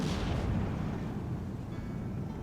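An off-map artillery strike lands in the WWII strategy game Steel Division 2, a dull distant boom with a rumbling tail under a steady low background.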